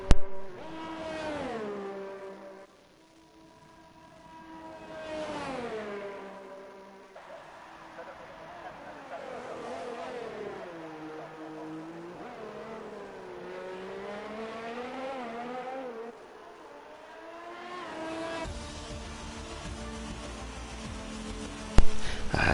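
Formula 1 race cars in the F1 2019 video game roar past across the finish line, engine pitch rising and falling in repeated sweeps, with a loud burst at the end.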